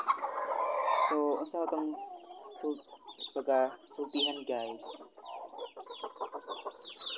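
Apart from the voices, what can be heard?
chickens clucking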